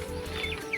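Young chickens about twenty days old cluck briefly and softly over a steady low hum, with a couple of short, higher chirping notes in under a second.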